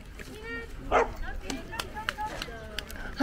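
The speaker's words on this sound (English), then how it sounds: "There's so many big dogs here." Several big dogs bark and yip on a desert hiking trail near Hatta, Dubai, with short sharp barks scattered through the clip over near, excited talking.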